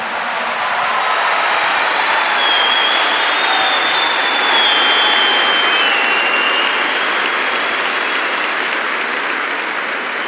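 Steady applause from a large church crowd fills the whole stretch, dense and even, with faint high tones drifting through in the background.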